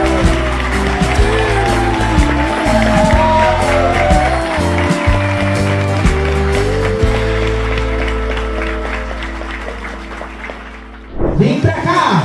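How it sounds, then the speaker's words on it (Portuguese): Wedding guests clap for the newlyweds, a dense sustained round of applause under music, fading gradually before a brief louder burst near the end. "Uma salva de palmas."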